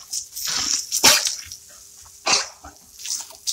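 An American Bully dog enjoying the water lets out a few loud, sharp barks, spread over several seconds, amid watery splashing sounds.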